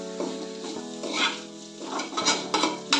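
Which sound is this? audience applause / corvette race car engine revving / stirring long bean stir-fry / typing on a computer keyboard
stirring long bean stir-fry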